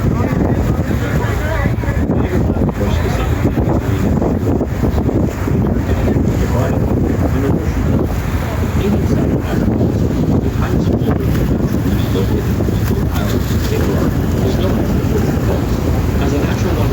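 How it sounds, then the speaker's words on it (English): Thundering roar of Horseshoe Falls at Niagara Falls, Ontario, heard up close from a tour boat in the mist, a steady loud broadband rush mixed with wind buffeting the microphone and the boat's engine throughout. "Here we go, Horseshoe Falls, Niagara Falls, Ontario, Canada"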